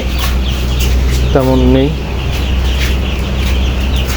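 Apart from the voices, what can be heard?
chickens clucking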